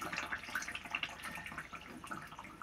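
Water poured from a vessel into a pot of simmering chicken curry, a steady close splashing trickle lasting a few seconds with no talking.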